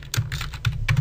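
Quick bursts of typing on a computer keyboard, a handful of close, crisp key clicks in uneven rhythm over about a second, no talk.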